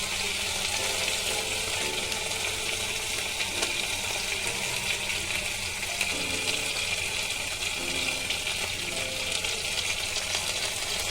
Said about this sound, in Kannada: ಇದು ಗೋಲ್ಡನ್ ಬ್ರೌನ್ ಆಗೋವರೆಗೂ ನಾವು ಇದನ್ನ ಫ್ರೈ ಮಾಡ್ಕೋಬೇಕು